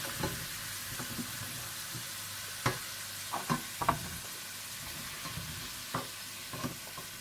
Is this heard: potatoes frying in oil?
yes